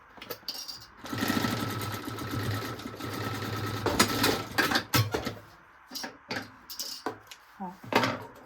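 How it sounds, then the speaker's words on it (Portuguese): A sewing machine runs a seam at a 1 cm margin on a toiletry bag, its rapid stitching whir running steadily for several seconds, then stopping and restarting in short bursts with fabric handling between. "E aqui a gente vai costurar também na margem de 1 centímetro."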